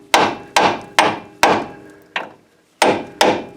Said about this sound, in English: We're going to use the brass hammer.